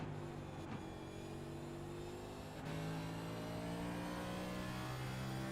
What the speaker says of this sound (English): I wanted y'all to hear his throttle